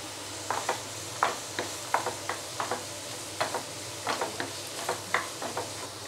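Carrots and beans are sautéed in a pan for fried rice, with a steady run of short, close scraping stir strokes over a low sizzle.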